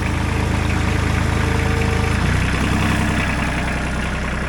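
A Ford three-cylinder diesel tractor idles steadily at about 1100 RPM, a loud, continuous low engine rumble with an even rhythm and a slight shift in tone midway, with no talking.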